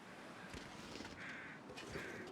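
Crows cawing in the survival video game The Long Dark, two drawn-out caws at a distance over a steady wind-like ambient background.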